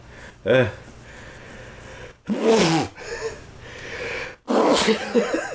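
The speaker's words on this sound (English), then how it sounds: "that sneeze is good design" A video game character from Devil May Cry 4 lets out a drawn-out sneeze in three bursts, a building wind-up, a loud explosive peak and a false ending followed by another burst, all close and clear with no talk.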